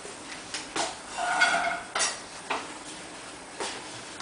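Sliced carrot rounds tipped into a non-stick pan with a teaspoon of oil, heard as a series of light clattering knocks and scrapes spread irregularly over a few seconds, close and fairly quiet.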